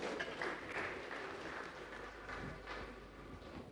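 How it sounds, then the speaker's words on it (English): Faint, distant applause from an audience at a Ghanaian public lecture, a soft continuous patter of clapping that fades slightly toward the end. "a resounding round of applause"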